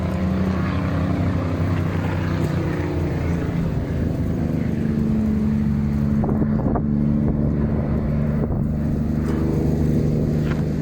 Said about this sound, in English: these trucks over there, these old trucks over there, they're hell noisy, dude.